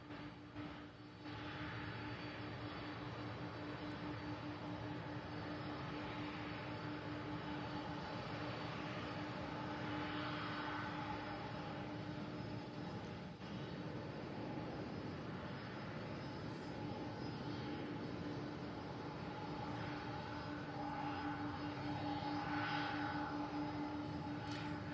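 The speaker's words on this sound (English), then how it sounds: "So it looks like we have a Boeing 767 followed by an MD-11 up next." A Boeing 767 jet airliner at Louisville's SDF airport gives a steady, broad engine roar with a faint whine on top, holding even and fairly distant for the whole stretch with no voices.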